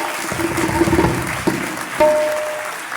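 A church congregation applauds, a steady close wash of clapping with a few sharper claps and a faint tone running underneath.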